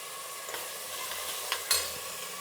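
Curry leaves hitting hot oil in a sambar tempering, a quiet steady sizzle punctuated by a few sharp crackles and a louder spitting pop near the end.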